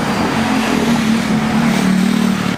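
Motorbikes revving on a Bronx street, a steady loud engine drone that swells and holds throughout, close by, with no talk.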